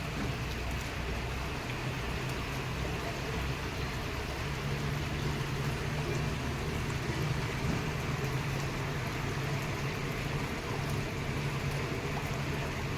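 Steady monsoon rain falls on a market street, a continuous broadband hiss with no pauses, even in level throughout and with no voices.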